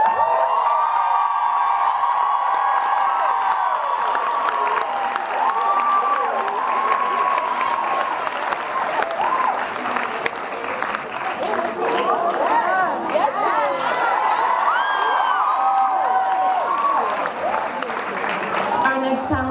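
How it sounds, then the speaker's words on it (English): Sustained applause and cheering from a large crowd, steady and loud throughout, with shouts and whoops rising above the clapping. "I want you guys to give a beautiful round of applause."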